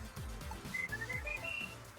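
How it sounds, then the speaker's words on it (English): A short melodic whistle tune plays in the video game Shantae: Half-Genie Hero, a few rising and falling whistled notes over a low rumbling game background, fairly quiet. "The whistle."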